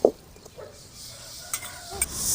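Millet frying in a pan while a spoon stirs and scrapes it, giving a soft sizzle with scattered scraping clicks close by and no talking.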